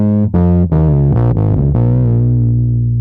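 A bass guitar played through a fuzz pedal with the tone knob rolled off gives a thick, dark, distorted riff of several sustained notes, loud and alone, ending on a long held note.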